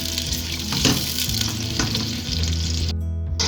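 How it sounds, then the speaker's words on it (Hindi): Onions sizzle and crackle in hot oil, a dense steady frying hiss with occasional stirring scrapes, close up. "ये प्याज डाला मैंने, अब इसको मैं लाइट ब्राउन कलर करूंगी, गोल्डन कलर।"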